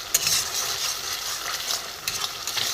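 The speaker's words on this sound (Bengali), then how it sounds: "একটু মশলাটা কষিয়ে নিই।" Spice paste fries in hot oil while being stirred in a pan for a vegetarian egg curry, a continuous crackling sizzle with soft scraping strokes of the spoon, close and moderately loud with no voices.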